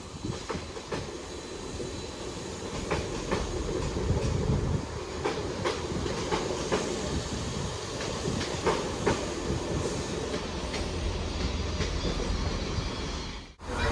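A train pulls out of Cardiff Central station, class 75602 heading to Corryton, its steady rumble and rhythmic clickety-clack of wheels over rail joints running close and loud for the whole stretch without talk.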